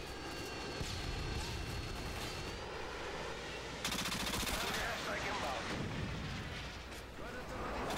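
Rapid automatic rifle fire from an F2000 in the video game Modern Warfare 2 on the Scrapyard map, loud sustained bursts with game explosions and effects, heaviest in the second half.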